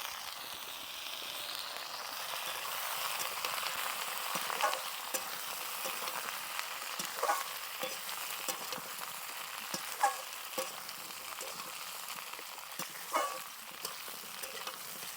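Drumsticks and potatoes frying in a pan, a steady soft sizzle with occasional crackles and pops, no talking.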